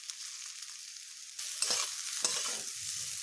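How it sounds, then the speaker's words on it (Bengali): Taro stolons fry in oil in a pan with a steady hiss that turns into a louder crackling sizzle, broken by a couple of sharp stirring scrapes, close up and with no talking. "এবার আমার লতিগুলো ভাজা হয়ে গেছে"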